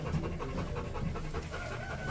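A police sniffer dog pants steadily and close by during a drug search in Colombia, its quick rhythmic breaths continuing without a break over a low background of movement.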